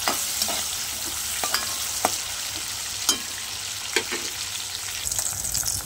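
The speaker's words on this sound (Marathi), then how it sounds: "टॅमॅटो मऊ होईपर्यंत परतून घेऊया" Tomatoes and curry leaves sauté in hot oil in a pan, a steady close sizzle punctuated by occasional sharp spatula knocks and scrapes, no voices.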